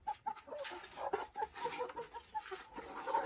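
Layer hens in a bamboo-built coop clucking and murmuring together as they wait for grain feed, a soft, busy, overlapping chatter at moderate distance with no talking.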